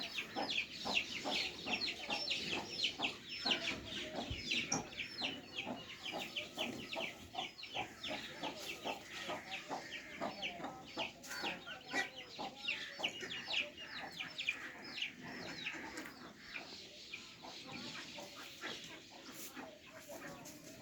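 Village hens clucking in a yard, a busy, continuous chorus of short clucks and calls at moderate distance, faint overall, with other farm-animal sounds mixed in.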